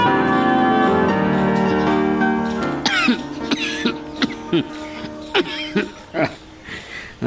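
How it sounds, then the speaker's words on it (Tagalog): A series of harsh coughs, several in a row with short gaps, following a stretch of sustained music-like tones. "Nakakainis ang ubo na to."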